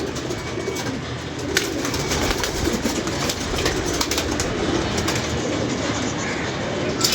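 Pigeons coo softly amid a steady busy background hum, with occasional bird calls and a faint rumble, continuous throughout.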